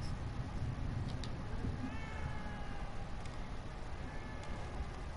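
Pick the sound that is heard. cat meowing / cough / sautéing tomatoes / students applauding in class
cat meowing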